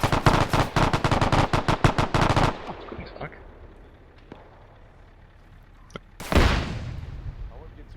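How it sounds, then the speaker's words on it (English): Video-game combat sounds: about two and a half seconds of loud, rapid automatic gunfire bursts, then scattered quieter shots before a sudden close explosion booms and rumbles away. "That was an explosion close and the sounds were enhanced sound."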